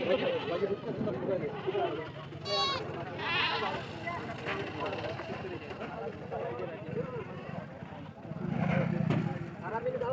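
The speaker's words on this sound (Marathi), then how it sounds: "इकडे शेळ्या जे शेतकरी लोक सांभाळतात ते लोक घेऊन येतात तिकडे" Goats bleat now and then, a few clear cries rising over steady crowd chatter and the bustle of a busy outdoor goat market in Hingoli.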